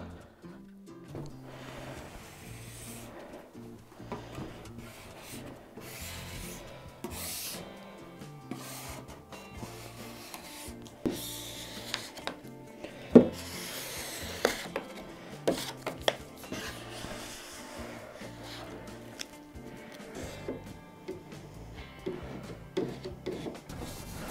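Steady scraping and rubbing of old finish off a vintage wooden sideboard, continuous with occasional sharper scratches and knocks, close by and moderately loud, with no talking.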